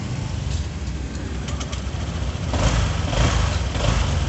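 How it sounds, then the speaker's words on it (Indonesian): A smart-key motorcycle engine runs steadily at idle nearby, a continuous low hum that grows slightly louder partway through, with no talking. "Mesin nyala."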